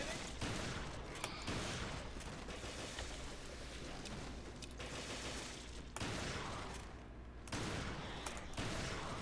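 On a zombie-infested ship in a shooter game, dense continuous gunfire rattles in rapid, sustained volleys with brief breaks, fairly loud and close, while voices talk over it.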